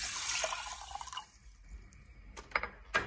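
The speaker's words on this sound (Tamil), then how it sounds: "இப்போ இதில் இதுக்கு தேவையான அளவு தண்ணி ஊற்றிடலாம்." Water poured into a pan while cooking moong dal curry gives a steady splashing hiss for about a second, then fades into a few scattered drips and small clinks, heard close with no talking.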